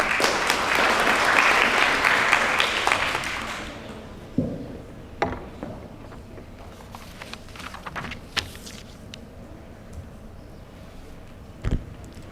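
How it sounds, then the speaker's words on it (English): Audience applause at an ASEAN debate competition, a loud burst of clapping for about four seconds that quickly fades into scattered thumps and faint room noise. "Let's give them a round of applause."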